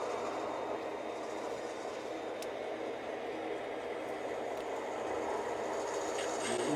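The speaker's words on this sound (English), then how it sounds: "we have that very same train number 139 approaching, expecting to come in" Model train number 139 on a BN layout rolls toward the yard, a steady low rumble of running gear held at an even level throughout, with no talk over it.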